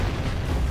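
Cannon shot in the Jak and Daxter video game, a short, loud, dull boom with a rumbling burst that fills the moment and fades quickly, no talking.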